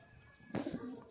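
A large black and white male high flyer pigeon in a rooftop setup in Attock, Punjab gives a single close, soft cooing call, about half a second long, against a quiet background.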